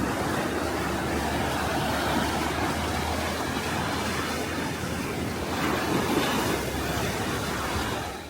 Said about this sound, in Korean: 길을 걷는 동안 파도 소리에 잠시 멈추어 바다를 바라보는 경치가 매우 좋습니다.